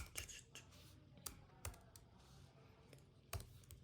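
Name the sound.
typing a name on a computer keyboard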